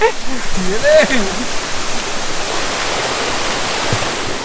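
Waterfall roar gives a broad, steady rush of water under someone speaking, with the noise continuing once he stops.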